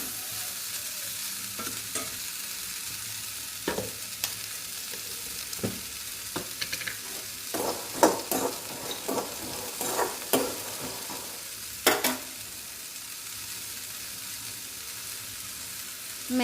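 Okra stir-frying with pepper powder in a pan, a continuous soft sizzle broken by irregular scrapes and taps of a spatula stirring, close by, with no voices.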